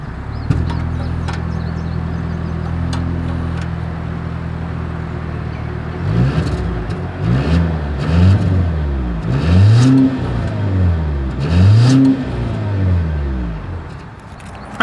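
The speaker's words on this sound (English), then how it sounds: "As always, here is that exhaust clip." A 2025 Volvo XC90 exhaust idles with a steady low hum, then gives a series of sharp revs that rise and fall repeatedly. The revs are close and loud.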